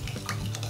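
Orange marinade ingredients for tofu being stirred together in a bowl, a short burst of soft scraping and clinking of a utensil, close and alone.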